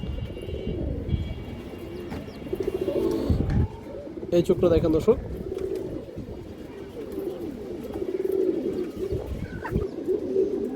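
A pigeon on a farm coos in low, throaty repeated calls at close range, while someone talks over it and a few short knocks sound in the background.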